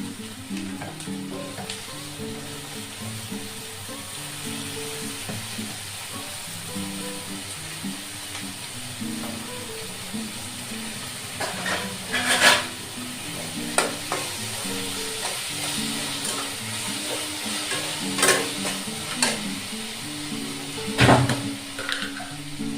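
Tomatoes tipped into a pan of cauliflower and potato bhaji, sizzling and frying steadily while a spoon stirs and scrapes, with a few sharper clatters near the middle and end; no talking.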